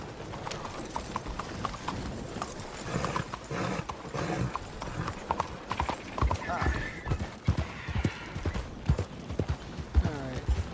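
Horse hooves clip-clop steadily at close range while riding through open country in Red Dead Redemption 2, the rhythmic clopping running throughout under game ambience with bits of voice.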